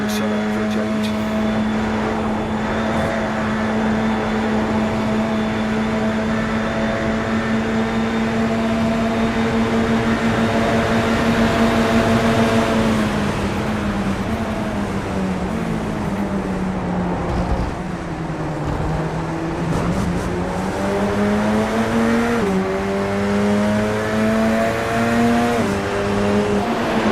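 A Radical race car laps Thruxton circuit, its high-revving engine droning steadily from onboard, pitch dipping and climbing through gear changes and throttle lifts in corners, with a brief voice underneath.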